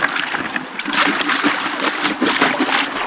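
Water sloshing and trickling over gravel in a small bedrock gold panning pool, a steady close wash of splashing and dribbling with a few louder surges, no talk.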